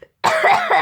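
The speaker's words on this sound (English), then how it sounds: "Don't mind the cough." A single harsh cough bursts out after a short pause, close and loud, lasting under a second with a slight second push at the end.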